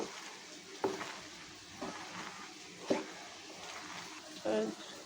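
Leafy greens with chopped onion being stirred and worked in a pan for fritters, giving soft intermittent scrapes and squishy knocks at a moderate distance, fairly quiet against steady background noise.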